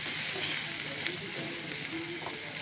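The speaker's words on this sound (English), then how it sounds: "And we give it a light stir." Vegetables in vegetable stock sizzle quietly in a pan while being lightly stirred for a pasta dish, a faint steady crackle with small scraping touches and no talk.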